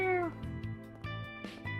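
A cat meows in a video game, one clear descending mew at the start, followed by quieter game sounds and music, with no talk over it.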